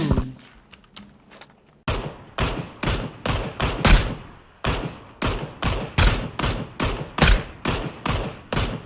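Gunfire in a shooting video game, a rapid series of loud, sharp shots in quick bursts with short gaps, close and punchy, following a quieter stretch with faint talk.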